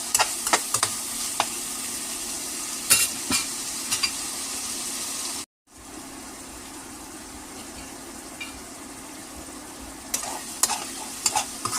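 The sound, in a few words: tomatoes being fried and stirred in a pan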